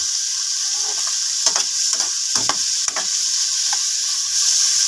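Onion, tomato and lemongrass sizzle in a pan for balbacua while a utensil stirs them, giving a constant hiss with a few scraping strokes scattered through it.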